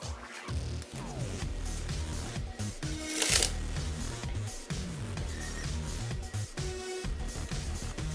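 Playing cards riffle and snap steadily as a deck is handled and cut for a Sybil cut, with brief sharp shuffling bursts over several seconds and no talking.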